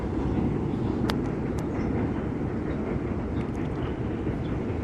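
A train rolls past on rails with a steady low rumble and rattling wagons, moderately distant and continuous, a couple of sharp metallic squeals cutting through, on a rainy day by a river island.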